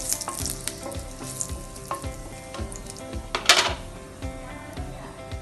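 Leaves and green chillies sizzle in two spoons of hot oil with mustard seeds, a continuous close crackle with small popping spits and one sharper burst of spattering near the middle.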